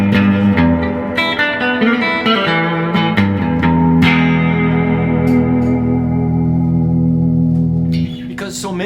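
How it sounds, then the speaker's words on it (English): A 1959 Fender Jazzmaster played through an amp with reverb rings out in sustained, echoing chords and single notes, full and loud, with a washy reverb tail trailing each strum before a brief pause at the end. "And I got reverb on this amp."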